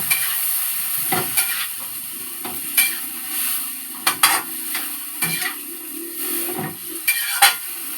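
Sweet potato tops hiss and sizzle in a pan while being stirred, with a constant bright frying hiss broken by scattered scraping and clinking knocks of a utensil, close up and with no voices.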